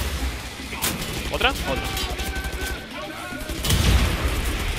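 Grenade blasts and gunfire in the video game Wolfenstein: The New Order, loud booming bursts crashing through a dense, noisy game mix, with a player speaking briefly over the action.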